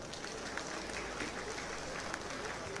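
An audience claps steadily and densely at the Oba of Benin coronation, a continuous wash of applause filling the whole stretch.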